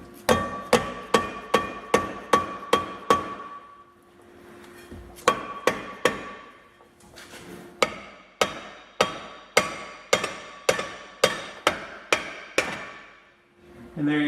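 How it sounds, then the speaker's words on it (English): A hammer strikes hard on metal to free a Dana D44/D35 axle on a WJ: loud ringing blows in three quick, even bursts of about eight hits each, with short pauses between the bursts. "just take your hammer."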